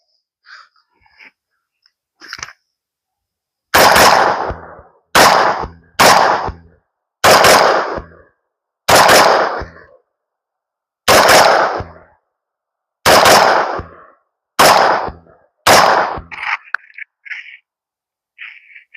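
A PSA Sabre 308 rifle with a short barrel fires at an outdoor range in roughly ten sharp, loud shots, some spaced apart and some in quick double taps, with near silence between them.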